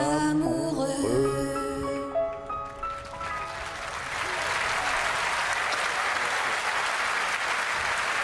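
A concert audience breaks into sustained applause after a sung duet, the clapping swelling in as the final sung and instrumental notes fade away.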